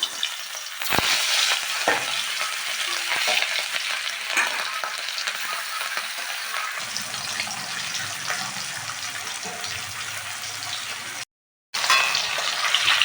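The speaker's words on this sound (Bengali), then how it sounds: "মাছগুলো ভেজে নেব এবার।" Hilsa fish pieces frying in mustard oil in a wok, a loud, dense, continuous sizzle with a few bursts of crackle and spatula movement, close up and without talk.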